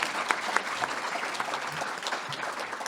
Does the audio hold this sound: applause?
yes